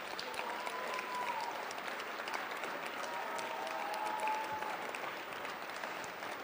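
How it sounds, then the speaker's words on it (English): Steady applause from an audience at a fall awards ceremony as the cross-country team stands, sustained clapping throughout with light crowd noise. "Give them a round of applause."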